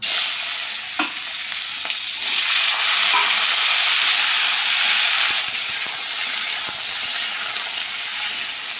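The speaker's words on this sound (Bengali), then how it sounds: "আর এখানে তেল হয়ে গেছে কি করব উচ্ছে দিয়ে আলু দিয়ে আর পেঁয়াজ দিয়ে ভাজা ভাজা করব" Bitter gourd, potato and onion fry in oil with a loud, continuous, hissing sizzle up close, broken by a few light stirring knocks.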